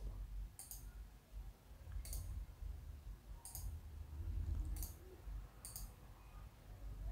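A computer mouse clicks five times at uneven intervals of about a second and a half, each a sharp, close, distinct click over a low, quiet room hum.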